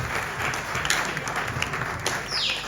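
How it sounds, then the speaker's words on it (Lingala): An audience claps together in a sustained burst of applause at a live event, a dense, even patter that carries on for the whole stretch with no voices over it. "Est-ce qu'on peut applaudir"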